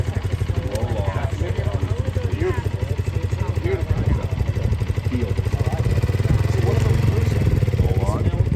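A motorcycle engine runs with a steady low, pulsing idle during a rider training session while the clutch is worked, close and continuous under a coach's talking.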